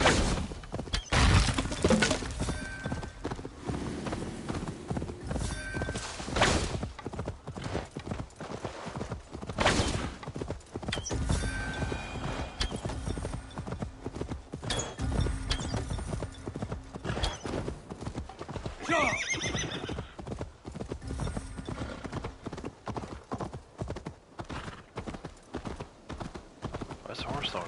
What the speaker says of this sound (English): Why's the horse slowing down?